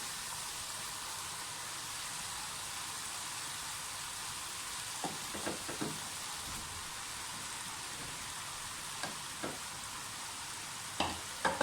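Spaghetti being stirred into fried vegetables in a pan, a faint, continuous sizzle with occasional soft scraping and clinking of the utensil against the pan.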